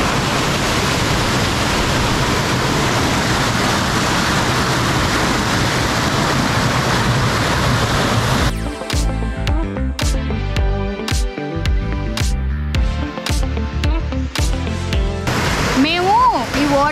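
Rushing mountain stream in the Maredumilli forest, a loud, steady wash of water filling the first half, then continuing underneath as people talk close by.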